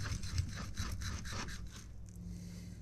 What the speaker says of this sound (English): So I'm filleting the smaller permit.